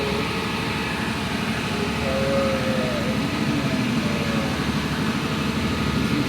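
A Caterpillar C280 diesel, about 3000 kW, runs steadily in the engine room of an 8,000 BHP ASD tugboat, giving a loud, dense, unbroken roar with a deep throbbing low end and faint tonal whines above.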